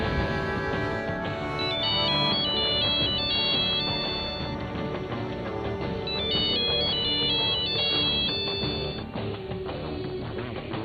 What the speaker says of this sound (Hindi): रास्ते में उसकी साली का फोन आ गया